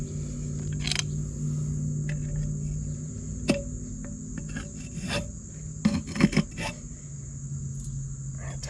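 Metal scraper rasping fresh paint off a lawn tractor's front wheel rim during a tire change, steady close scratching with several sharper bursts of scraping.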